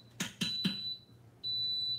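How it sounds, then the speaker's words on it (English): A pressure cooker beeps while onions and bell peppers saute, giving a high steady electronic tone with a few sharp knocking clicks at the start, close and moderately faint, without talk. "Sorry for the noise, but this pot does make noise."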